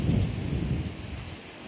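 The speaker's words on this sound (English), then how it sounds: "Nice big gust." A strong gust of wind roars and buffets, rumbling loudly at first, then easing off over a couple of seconds.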